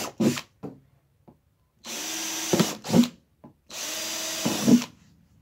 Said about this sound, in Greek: Εδώ θα κάνουμε και δύο-τέσσερες τρυπούλες.